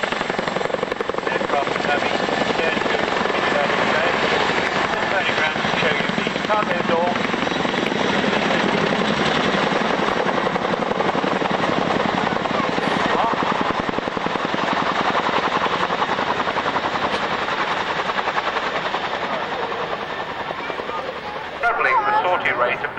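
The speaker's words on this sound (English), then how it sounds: "running in, we have the Chinook" A Chinook twin-rotor helicopter runs in at an army air corps airshow, its rapid, heavy blade thump continuous and loud throughout, with a commentator's voice over it.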